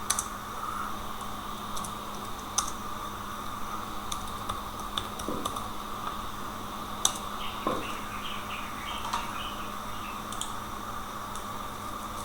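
Keys tap sporadically on a computer keyboard as a chmod command is typed, producing light scattered clicks over a steady background hum.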